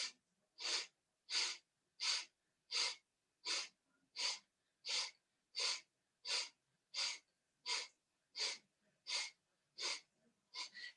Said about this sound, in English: either beginning breath of fire or just your own deep belly breath